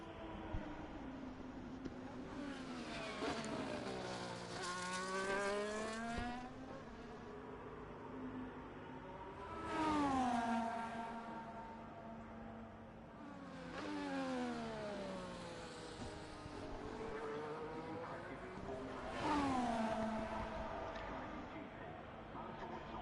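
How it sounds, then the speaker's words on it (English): Race cars accelerate during a race, engines rising in repeated sweeping pitch climbs as they pass through gears, loud and sustained with faint background noise and no clear talking. "Now Ollie Matthews does eventually cross the line to finish P11."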